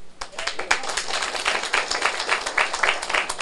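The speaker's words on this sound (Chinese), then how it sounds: "你们拍手嘛，拍得莫名其妙呢" An audience at a lecture for a Taiwan Civil Government advanced administrative class breaks into steady, dense clapping that keeps going for the whole stretch. A voice speaks briefly underneath.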